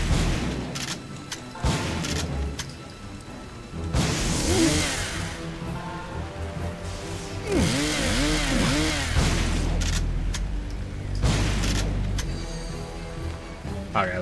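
A chainsaw revs in an Evil Dead video game, its rising and falling roar mixed with gunshots, booms and game effects across the whole stretch, with a voice briefly heard.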